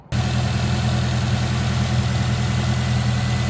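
A car engine, recently treated with cleaner for an oil leak and burning it off its exhaust, idles steadily up close with a constant low rumble throughout.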